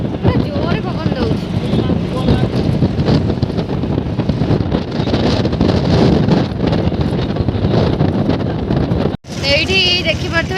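Heavy wind blows across an Andhra Pradesh beach, a loud steady roar battering the microphone almost without pause, with someone talking over it and a brief dropout near the end.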